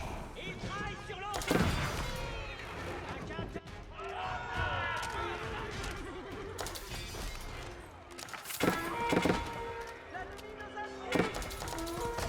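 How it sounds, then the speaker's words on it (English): Cannons fire during an Age of Empires IV tournament match, sending out booms and crashing impacts over the game's battle noise, while a commentator talks throughout. "the cannons are doing work here"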